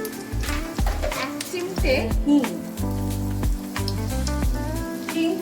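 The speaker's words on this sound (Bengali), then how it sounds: "এবার আমি ফোড়নের জন্য দিয়ে দেবো একটা তেজপাতা, 2টো শুকনো লঙ্কা, 1 চামচ সাদা জিরে" Bay leaf, two dried red chillies and a spoon of cumin hitting hot oil for a tempering, crackling and spitting in bursts with brisk pops, while someone speaks over the sizzle.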